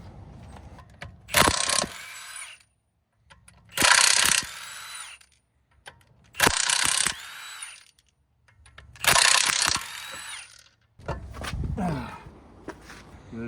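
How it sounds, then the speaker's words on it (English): A cover comes off a Lamborghini with a ratchet, heard as five bursts of loud, close ratcheting clicks separated by short pauses. "Now I got to get this cover off."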